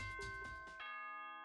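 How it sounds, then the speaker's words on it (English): A two-note doorbell chime from the video game Danganronpa rings clearly, its second tone sustaining and fading cleanly into quiet. "Ding dong."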